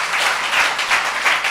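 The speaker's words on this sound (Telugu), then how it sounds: "చప్పట్లు కొడుతూ స్తోత్రాలు చెప్పారు" Church congregation clapping in praise during a sermon, dense steady applause with rhythmic pulses of hand claps from many people, loud and close, with no talking.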